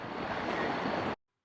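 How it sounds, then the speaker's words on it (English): Small boat waves wash against a kayak on open water, a loud, dense rush of water and wind noise that lasts about a second before stopping abruptly into silence. "some small boat waves coming across"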